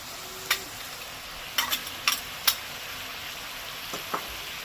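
Onion paste fries in a pan for a gadal leaf dish, giving a low steady sizzle broken by a few sharp clinks and scrapes of a utensil, close by and fairly quiet, with no voices.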